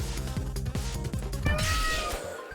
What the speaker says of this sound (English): You guys hear this cat?